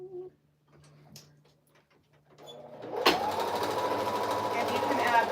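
A sewing machine runs steadily through a top stitch around the edge of a sewn piece, starting after a quiet stretch of faint talk and continuing loud and close to the end.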